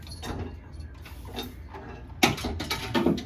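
A house cat knocking objects over in a room, a few scattered light knocks and rattles followed by a sharper clatter of several quick hits near the end.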